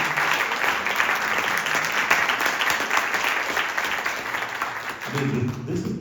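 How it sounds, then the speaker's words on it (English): Audience applause at an event honouring Sri V.V. Sundaram, a dense steady wash of many hands clapping that holds for several seconds without a break. "Please give him a big round of applause"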